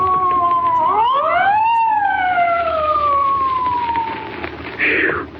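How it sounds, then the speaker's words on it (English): A police car siren in a radio drama wails upward and then slowly falls in a long, loud sweep, sounding close and standing alone with no voices over it. "Spike, there's a police car coming up"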